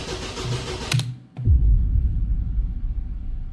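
A lowered stance car's engine cranks and stumbles, cuts out with a short gap, then catches into a rough, heavy, uneven low rumble that keeps throbbing close by.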